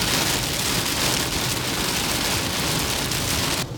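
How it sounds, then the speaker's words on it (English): Heavy rain pours down in a steady, dense hiss that stays loud and unbroken throughout, with no voices and only a slight dip in the final moment. "Just can't get out of this damn rain."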